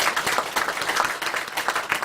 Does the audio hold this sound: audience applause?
yes